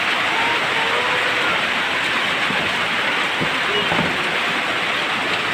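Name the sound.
heavy rain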